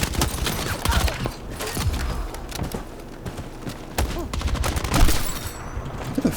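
Loud gunfire bursts from an SMG in the shooter game Battlefield 6, with rapid cracks and thuds coming in uneven clusters over busy game noise.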